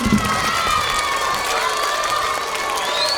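Schoolchildren at a primary school event cheer and applaud for the mayor, a dense, loud, continuous wash of clapping and high shouting voices that holds steady for the whole stretch.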